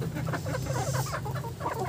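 Heritage chickens in a coop, including a large rooster, cluck busily in a dense overlapping chorus close by, with no talking.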